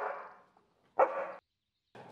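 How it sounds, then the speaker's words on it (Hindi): A dog barks in short bursts, roughly two or three harsh, mid-loud barks separated by brief silences, heard alone without talk. "ये कुत्ते की आवाज कहाँ से आ रही है?"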